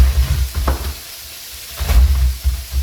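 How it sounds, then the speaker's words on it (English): Sausage with cabbage sizzles and crackles in a hot pan close by, with a low rumble and a couple of scraping stirs along the way. "so that sausage is sizzling"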